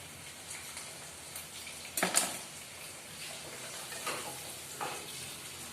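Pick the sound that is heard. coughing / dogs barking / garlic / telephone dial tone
garlic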